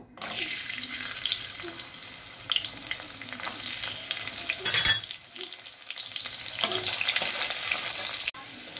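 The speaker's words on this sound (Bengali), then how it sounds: "এই বাদামগুলো আমি হালকা একটু ভেজে নেব।" Soaked raw peanuts fry in mustard oil in a wok, giving a steady close sizzle with stirring scrapes and a brief louder crackling burst midway.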